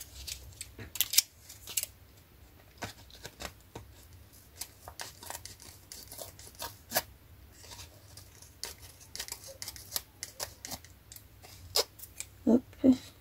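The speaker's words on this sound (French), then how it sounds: "L'impression que mes ciseaux ils collent plus, enfin ils coupent plus, je veux dire." Scissors cut paper for an autumn-themed scrapbook display, giving scattered quiet snips and rustles at an uneven rhythm, with soft handling noises between them and a couple of sharper clicks near the end.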